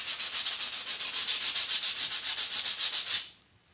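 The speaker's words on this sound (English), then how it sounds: "Do you really want to sit there and watch me sand this piece of wood?" Sandpaper rubbed back and forth over a wooden part of an antique woodworking vise being restored: steady rhythmic hand-sanding strokes, about eight per second, loud and close, stopping abruptly near the end.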